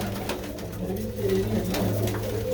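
Pigeons coo in low, throaty, overlapping calls that keep going without a break, with a steady murmur of background noise, amid a pigeon-keeping gathering at a fair.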